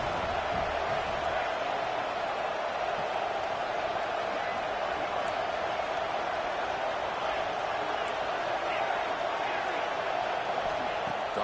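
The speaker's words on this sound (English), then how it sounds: "3rd down, and the crowd really getting into it." Dense, steady roar of a football stadium crowd during a third-down play, continuous broad noise at constant loudness for the whole stretch with no distinct voices standing out.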